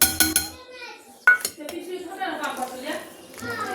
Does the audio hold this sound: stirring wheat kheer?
yes